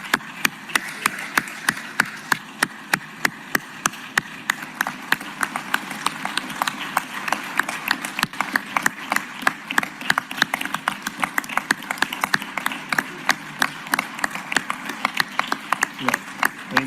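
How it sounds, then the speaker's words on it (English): Applause from attendees at an Atlanta city council regular session, a room of sharp scattered claps building into steady clapping over many seconds, with some voices talking beneath it. "So let's give a round of applause."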